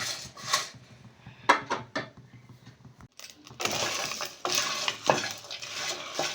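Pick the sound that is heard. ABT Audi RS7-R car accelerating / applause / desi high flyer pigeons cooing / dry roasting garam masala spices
dry roasting garam masala spices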